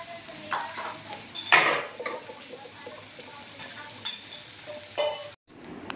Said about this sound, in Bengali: এই মাংস ফুটছে।